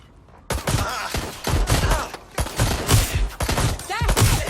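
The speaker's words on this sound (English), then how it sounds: "Shots fired! Shots fired!" Rapid bursts of gunfire from the video game Watch Dogs Legion, loud volleys and repeated shots in dense clusters filling the whole stretch, with no talk over them.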